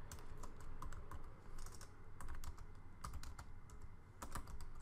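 Typing on a computer keyboard while entering file content at a terminal, a quiet run of quick, uneven key clicks in bursts, close and alone.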